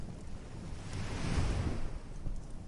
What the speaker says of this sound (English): The sea answered with a hush, folding the shore into itself like a blanket being tucked.